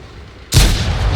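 A tank cannon fires in a tank battle video game, a single sudden loud boom after a brief quiet lead-in, followed by a sustained rumbling roar.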